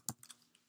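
Computer keyboard keys are tapped in a short, quick burst while a Google search is typed, with a few faint, close clicks and no talking.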